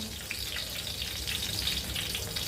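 Steady, close sizzling of drumstick-pod fritters frying in hot oil, a continuous crackling hiss with no voices.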